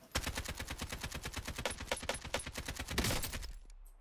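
Rapid automatic fire from a video game gun comes as a steady stream of sharp, evenly spaced shots for about three seconds before cutting off into quiet.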